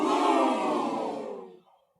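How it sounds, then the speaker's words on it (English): A dense crowd boos as a sound effect, one broad, loud burst that holds for about a second and a half and then trails off into silence. "All right, let's try the booing."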